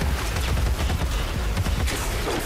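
Dense bursts of gunfire from the mobile sniper shooter game Sniper Fury crackle in rapid succession over a constant loud backdrop, with no talking.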